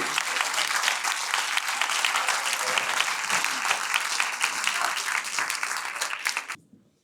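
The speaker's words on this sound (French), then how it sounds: "je pense qu'on peut les applaudir" A room full of people claps steadily for several seconds, a dense, even wash of applause that fades out quickly at the end.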